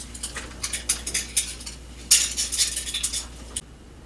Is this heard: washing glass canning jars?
yes